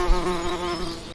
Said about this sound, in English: A bee is a small insect.